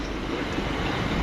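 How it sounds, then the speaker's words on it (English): A British Rail Class 377 electric multiple unit pulls into a station platform, its steady rumble and rolling noise loud and close throughout with no talk. "That's 377 613 coming in there."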